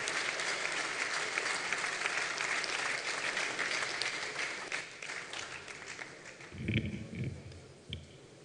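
A large audience at an annual general conference applauds in a dense, sustained wave to welcome Ghana's president, thinning toward the end as a few voices and scattered claps remain.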